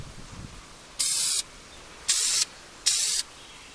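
An aerosol can sprays red paint onto a wreath in three short hissing bursts, each about half a second long, with quiet pauses between them.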